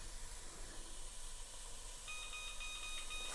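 Kitchen timer beeping on a stove, a rapid run of thin electronic beeps starting partway through over a steady hiss of cooking.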